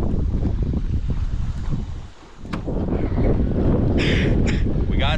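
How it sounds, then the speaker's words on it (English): Strong wind buffets the microphone on the Atchafalaya River from a fishing boat, a steady loud roar that dips briefly midway, with water sounds beneath. "the wind's getting really bad out here"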